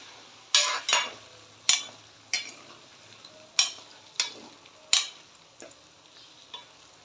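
Mixed vegetables for Gujarati undhiyu, including yam and raw banana, are sautéed in a pan: a soft background sizzle broken by about ten sharp scraping stir strokes at irregular intervals.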